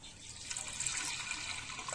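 Water, one litre, is poured steadily into a saucepan in preparation for boiling soursop leaves, a continuous close rushing splash lasting about two seconds with no voices.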